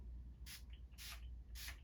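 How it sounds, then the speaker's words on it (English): A makeup setting spray is pumped three times in close succession, each spritz a short, bright hiss of mist with brief gaps between. "Now, let's just spray. I'm gonna do like 3 sprays."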